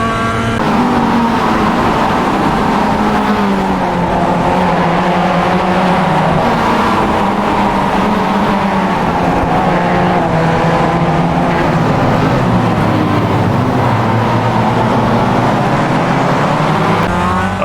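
A Mazda MX-5 race car at Long Beach in the iRacing simulator drones loudly and continuously, its engine rising and falling through revs and gear changes over the whole stretch, with no talking.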